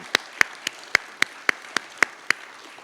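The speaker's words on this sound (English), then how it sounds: "One more round of applause while they're walking out" Sparse, slow hand claps from an audience after a string quartet performance at a Community Arts Council of Vancouver celebration, about ten distinct claps at an even pace, fairly faint and isolated against a quiet room.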